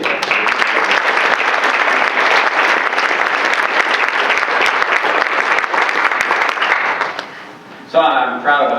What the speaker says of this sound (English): I'd like to have another round of applause for Sol.